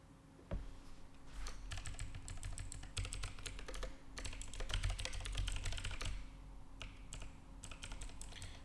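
Continuous typing on a computer keyboard while programming, a dense run of close, quick key clicks with short pauses, steady throughout and with no voices.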